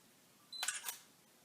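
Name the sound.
Sony A5000 camera shutter click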